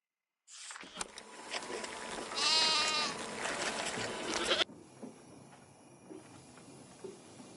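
Goats bleat in a video game, one loud, wavering nearby bleat standing out over a busy ambient bed of other sounds, then a sudden cut to quieter background.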